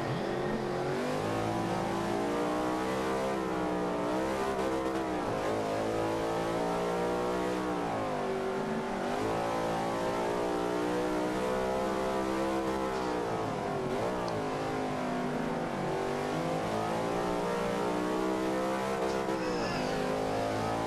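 A vintage race car in Forza Motorsport 5 roars continuously for twenty seconds, its engine pitch rising and falling through repeated acceleration, gear changes and lifts, loud and up close with no talk.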